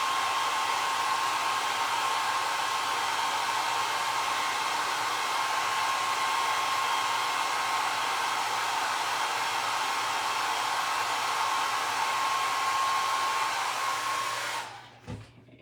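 Hair dryer running steadily on its low setting to dry a vintage Christmas craft, a loud continuous whooshing hum that holds for about fourteen seconds before clicking off, with no voices.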